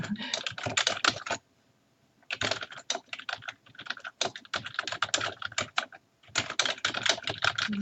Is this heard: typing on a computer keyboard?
yes